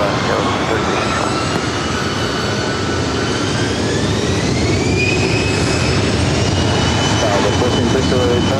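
A jet airliner on takeoff from runway 24 Right at LAX, a loud, continuous roar with rising turbine whine that holds steady and near for the whole stretch, with no pauses.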